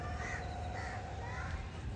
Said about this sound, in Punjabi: ਆ ਪੰਛੀ ਦੇਖੋ ਕਿੰਨੇ ਸੋਹਣੇ ਨਜ਼ਰ ਆ ਰਹੇ ਨੇ ਉੱਤੇ ਉੱਪਰ ਆਉਣਗੇ